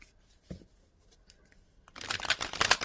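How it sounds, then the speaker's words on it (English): A deck of Flower Oracle cards is shuffled close by, a dense burst of riffling, papery rustle filling the last second after a near-silent stretch with one soft tap. "I was going to give it a bit of a shuffle"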